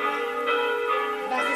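Church victory bells ring out in a German comedy film scene, a loud, steady peal of overlapping rich metallic tones that sustains throughout without talk.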